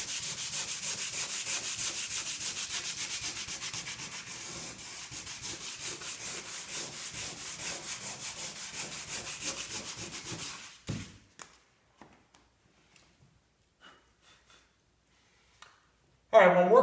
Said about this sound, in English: So I'm going to go ahead and start sanding it so we can prime this whole side of the vehicle.